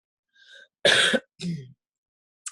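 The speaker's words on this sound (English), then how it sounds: "If I'm coughing, it's because it's a response to clearing." A person coughing during a guided meditation session: a soft throat sound, then a sharp loud cough followed by a second shorter, rougher cough, close and isolated against silence.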